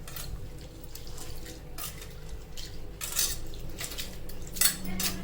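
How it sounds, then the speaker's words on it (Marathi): Dal lentils being rubbed and washed by hand in water in a kitchen vessel, giving continuous wet swishing and light clinks of the pot, steady and close with no talk. "स्वच्छ डाळ अशी चोळून चोळून चोळून धुवून घ्यायची चांगली"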